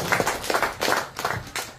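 Applause from a crowd at a Parti Warisan political dialogue in Ranau, heard as a short, rough burst of claps in uneven clusters, fairly close and moderately loud.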